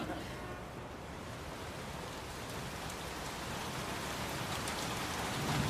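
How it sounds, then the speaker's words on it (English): Steady rain hisses and patters evenly throughout, a dense wash of falling water with no other sounds. "Hey, it's raining."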